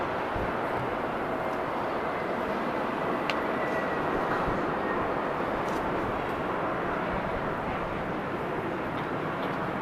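Airliner at Amsterdam Schiphol Airport producing a steady, loud broadband engine roar that holds constant throughout, with no break or talking.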